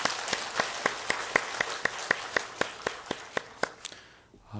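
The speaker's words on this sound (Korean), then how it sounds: "우리 다 함께 박수 한번 하겠습니다." A Sunday worship congregation in a church claps together in unison, with roughly a dozen sharp, evenly spaced beats in steady rhythm that stop abruptly near the end, leaving quiet room tone.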